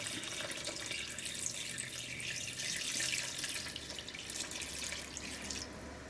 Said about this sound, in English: We'll add more water and continue boiling it.